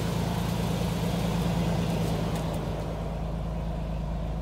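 A Nissan 370Z fitted with a Stillen Gen 3 intake and a muffler delete idles close by, a steady low engine rumble holding even throughout with no talking.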